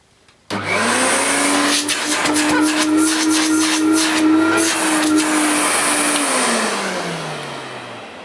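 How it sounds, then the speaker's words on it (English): A vintage 800-watt Vortice Bello Silent vacuum cleaner switches on abruptly and runs loud and steady with suction at the hose end, its motor whine holding then sagging slightly as it winds down near the end. "A little bit of a feel of the suction at the hose end."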